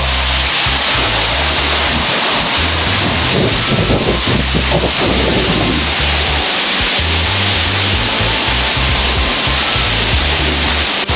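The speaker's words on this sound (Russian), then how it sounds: "И когда вот отлив, можно увидеть вот этот водопад." Waterfall at low tide on the wild Donegal coast in Ireland, with sea surf beside it, a loud, constant rush of falling water and breaking waves, buffeted by wind noise on the microphone.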